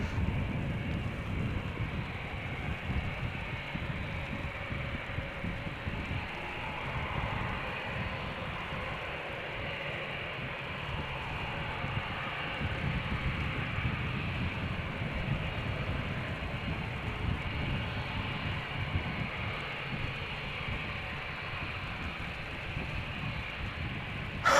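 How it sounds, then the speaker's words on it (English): KLM Boeing 787-10 Dreamliner jet on a snowy day at Amsterdam Schiphol Airport, a soft continuous engine rumble and hiss from a distance, steady throughout with slight swells and no voices. "KLM flight 601, 787-10 Dreamliner, 4 years old, first flight November 2019, destination LAX"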